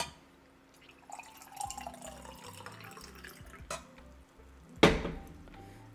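Water runs from a tap for a few seconds alongside dripping and small clunks, ending with a sharp thunk near the end; indoor, close, moderate level.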